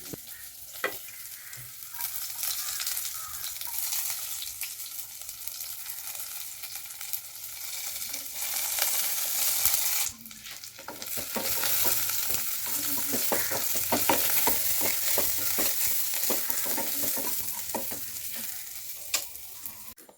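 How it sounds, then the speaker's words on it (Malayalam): Curry leaves, garlic, dried red chilies and shallots frying in hot coconut oil, a dense continuous sizzle with stirring scrapes that swells louder partway through, no voices. "ഇന്ന് നമുക്കിത് വറവിടാം കറിവേപ്പിലും വെളുത്തുള്ളിയും ഉണക്കമുളകും പിന്നെ നമ്മളെ ചെറിയുള്ളിയും കൂടി ഇട്ടിട്ടൊന്ന് വറവിട്ടെടുക്കാം"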